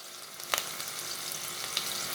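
Cumin seeds and onions sautéing in a hot pan, a steady close sizzle with a couple of faint clicks from stirring.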